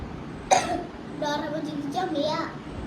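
A child with an allergy gives one sharp, abrupt cough up close. Short voiced child sounds follow over a quiet indoor background.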